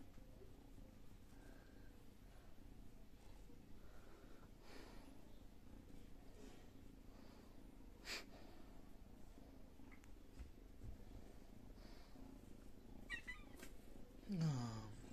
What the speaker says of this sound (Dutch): Deze is een beetje verkouden, dat katje.